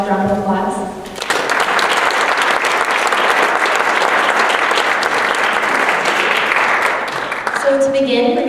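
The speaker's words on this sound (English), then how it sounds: "could all start with one large round of applause" A large audience at the 2015 Renaissance Awards at Davis High breaks into a loud, dense round of applause that holds steady for several seconds, then fades as a voice comes back in.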